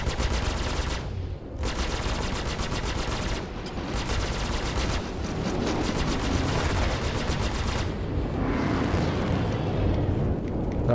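Rapid sustained gunfire from ship weapons in the space combat game Star Citizen, loud and dense bursts with brief gaps, mixed with engine roar and a rising whine near the end; no talking.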